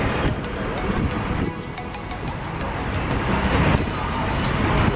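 A car sits idling in a traffic jam in Hungary during the Mongol Rally, giving a steady, close cabin rumble with broad road and wind-like noise that runs unbroken throughout.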